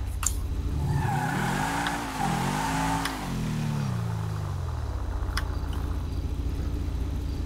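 A car engine in a video game revs and shifts pitch up and down, then settles into a steady drone, with a few sharp clicks scattered throughout.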